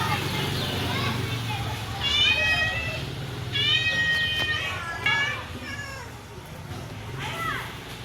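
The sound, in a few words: cat meowing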